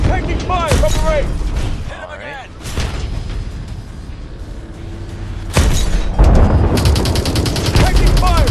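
Heavy automatic gunfire and explosive bursts from the video game Call of Duty Advanced Warfare, loud and near in rapid volleys, with shouting voices mixed in.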